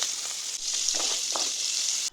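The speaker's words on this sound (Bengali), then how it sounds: "তারপরে চিংড়ি মাছে একটু হলুদ আর লবণ দিয়ে ভেজে নেব।" Prawns frying in oil with turmeric and salt, a short burst of close, dense hissing sizzle that holds steady and then cuts off abruptly, with no talking.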